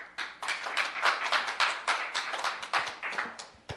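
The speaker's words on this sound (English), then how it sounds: "Please, no applause or shows of support" Audience members clap at a public information meeting about bringing Big Top Baseball to Frame Park, a moderate burst of clapping from a small crowd with uneven, separate hand claps that rise and fade in waves.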